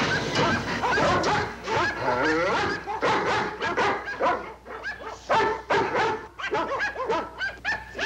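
A collie whimpers and yips close by in a string of sharp, high barks and whiny cries that come in uneven bursts across the whole stretch, loud and with no voices over it.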